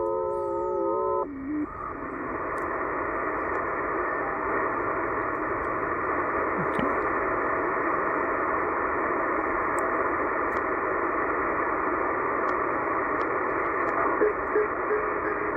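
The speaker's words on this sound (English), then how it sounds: "10137 is a mode is known FT8. It's a digital mode that the amateurs use to transmit." Steady FT8 amateur digital radio tones near 10137 kHz hum through static, after a brief burst of multi-tone signal at the start; the warbling carrier continues without pause.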